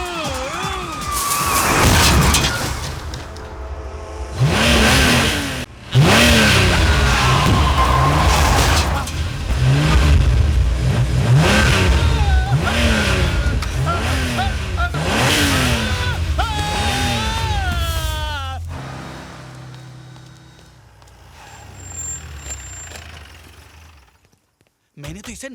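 A car engine revs hard and roars as a driverless car speeds away, loud and sustained for most of the scene, layered with dramatic music and people talking before it fades out.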